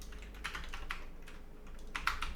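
Keys clack on a Commodore 128 keyboard as a sys command is typed, a run of irregular close keystrokes with a brief pause midway, quiet and without speech.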